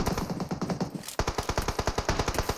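Rapid, loud bursts of automatic gunfire rattle in PUBG Mobile, a fast even stream that pauses briefly and then resumes with a heavier, punchier volley of shots.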